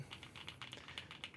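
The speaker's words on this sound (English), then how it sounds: "that spacebar doesn't sound terrible, and all the keys that have stabilizers sound pretty good" Keys on an Epomaker EK98, a budget mechanical keyboard, are typed in quick, close-up strokes: a soft, rapid patter of clicks and clacks that continues without a break.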